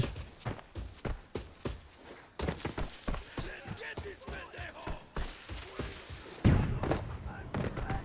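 Footsteps thud in a steady rapid rhythm in the shooter game Arena Breakout, running steps and heavier thumps under someone talking, with a louder impact near the end.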